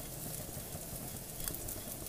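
Grated coconut with sambar powder roasting in a pan while being stirred continuously, giving a soft steady scraping and faint sizzle close by.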